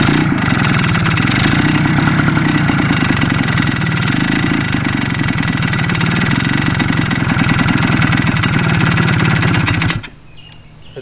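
Suzuki TS185 motorcycle engine running at idle just after an engine rebuild, loud and close with a steady rapid two-stroke putter for about ten seconds before cutting off abruptly into near silence.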